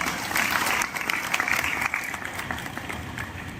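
Audience applause at a talk, a brief burst of clapping from a crowd that fades off within a few seconds.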